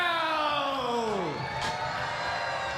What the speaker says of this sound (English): listen to these fans, they're on their feet, standing up at ringside to cheer her on